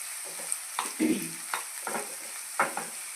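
Onions frying in a pan toward golden brown for a phool makhana masala curry, a steady close sizzle broken by several scraping stirs, with no voices.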